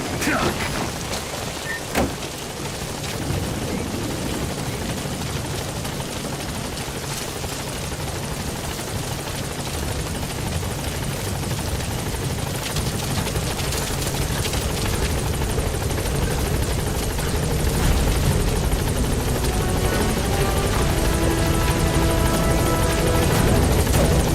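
A helicopter in the video game Metal Gear Solid V lands and lifts off with loud, continuous rotor thudding and engine roar that grows slightly stronger toward the end.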